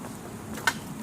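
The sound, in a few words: honeybees buzzing around newly installed hive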